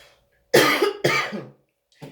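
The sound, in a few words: cough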